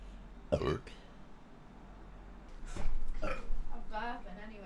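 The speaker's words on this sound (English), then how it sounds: "burping anyway." Loud, drawn-out belches burst out one after another, the first sharp and deep and the later ones longer and rougher, with scattered voices and casual chatter between them.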